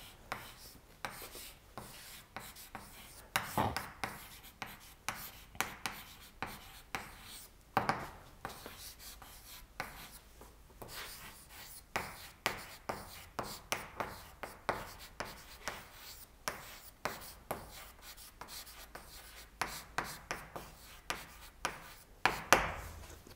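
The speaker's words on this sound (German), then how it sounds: "Ich schreibe das nochmal hier hin." Chalk or marker scratching steadily across a board during a university lecture, with rapid strokes and taps in an irregular rhythm and faint room noise between them.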